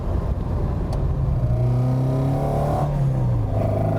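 A restomod sports car, a Frontline MGB or Rocketeer MX-5, pulls hard from second into third gear, a loud steady engine drone rising in pitch, dipping at the shift, then climbing again.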